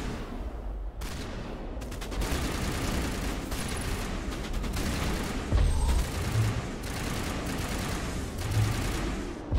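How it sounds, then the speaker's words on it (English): Gunfire rattles through a firefight in the video game Mass Effect Legendary Edition: dense, sustained bursts of rapid shots with a few heavier booms, loud and continuous with no talking. "We're all shooting."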